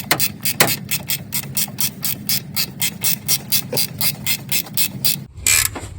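A ratchet clicks rapidly and steadily, loosening a 15 mm alternator bolt on a 1989 Chevrolet Squarebody Suburban, close up, ending with a brief clatter.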